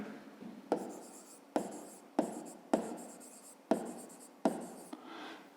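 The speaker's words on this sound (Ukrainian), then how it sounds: "Ну то запишемо тоді так." A fifth-grade math solution written by hand, heard as a close sequence of scratchy writing strokes, each opening with a tap and trailing off, about seven in a steady rhythm with no speech.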